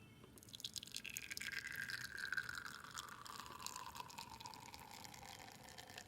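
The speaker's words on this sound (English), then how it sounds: "we're gonna test out the machine starting with one shot of espresso" A La Pavoni lever espresso machine pulling a single shot, a faint steady trickle and hiss of liquid flowing into a cup for several seconds, with a soft descending whistle-like tone, no voices.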